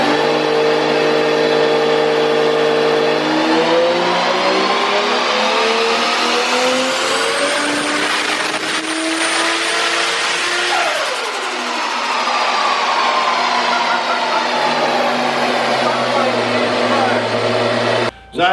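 A tuned Toyota Supra MK4 with a 2JZ-GTE engine on 28 psi of boost revs hard on a dyno, its loud sustained roar sweeping up through the RPM range, holding near the top, then dropping back to idle.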